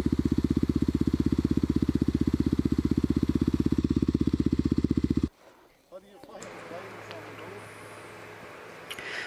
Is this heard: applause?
no